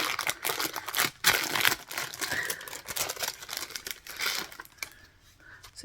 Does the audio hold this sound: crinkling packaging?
yes